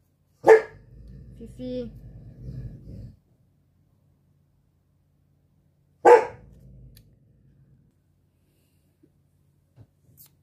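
A small pet dog gives a sharp bark followed by whimpering and grumbling, then another single bark later, close indoors, with a voice calling to it in between.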